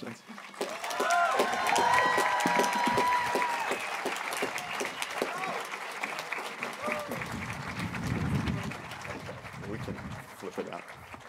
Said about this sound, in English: Please give a round of applause for all our graduates of the class of 2022.